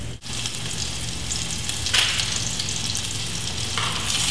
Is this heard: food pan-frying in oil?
yes